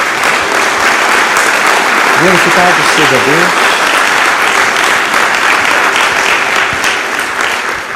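A church congregation gives a loud, sustained round of applause that lasts the whole stretch, with a voice speaking briefly over it.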